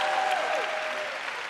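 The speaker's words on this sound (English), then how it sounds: "You should clap for me right there." Audience clapping in a hall, a dense, steady wash of many hands lasting about a second and a half, with a faint tone sliding downward partway through.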